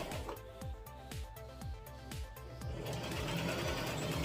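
A sewing machine runs in steady bursts of rapid stitching while sewing a tutu outfit, the needle's rhythmic chatter close and fairly loud, with no voices over it.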